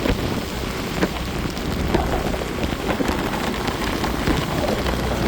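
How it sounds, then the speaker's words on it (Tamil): Heavy rain pours steadily on a mountain road toward Kodaikanal via Periyakulam and Adukkam, a dense continuous hiss with no voices, close and loud throughout. "மழை அங்கெல்லாம் சரியான மழை"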